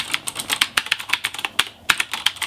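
Quick, clicky keystrokes on a Ducky mechanical keyboard with blue switches rattle out in an uneven rhythm, close and crisp, with no talking.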